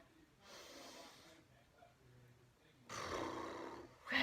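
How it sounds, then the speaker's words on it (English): A deep breath drawn in during a stretching workout, an airy rush of inhalation heard twice, the second louder and closer, with no talk over it. "we're going to take a deep breath in"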